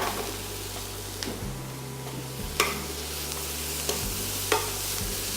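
Onions fry in butter in a pan beside beef steak, a steady close sizzle broken by scraping stir strokes and a few sharp utensil taps against the pan.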